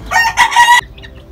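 A Sweater Escolin line gamefowl hen gives a short, loud run of close clucking calls, then falls quiet.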